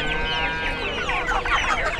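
Chickens cluck steadily and close by at a livestock market in Sokuluk, with overlapping busy calls from several birds and no talk.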